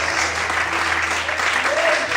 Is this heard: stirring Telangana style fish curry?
no